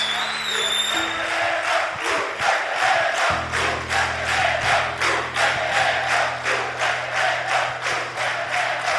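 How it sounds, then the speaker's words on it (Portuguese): A church congregation at a worship gathering claps in a steady, loud rhythm throughout, with a sustained keyboard-like tone and crowd noise underneath. "Vamos aplaudir o Senhor"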